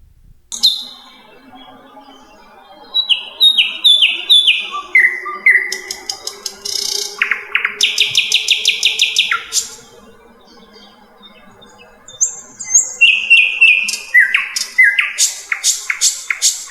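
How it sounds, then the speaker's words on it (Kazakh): A nightingale sings a varied song of rapid repeated whistles, trills and descending note runs, loud and clear in phrases separated by short pauses, with no voices. "бұлбұл құстың даусының ерекшелігі және де оның түр сипатыменен таныс болайық"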